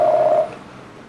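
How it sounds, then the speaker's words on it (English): A single telephone tone sounds clearly for under half a second, then cuts off into quiet line noise, placed as a call reaches San Francisco Giants executives before their 2010 parade. "Giants executives had to pause to take a very important phone call."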